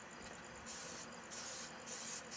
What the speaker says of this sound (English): A little bit of your favorite grill spray.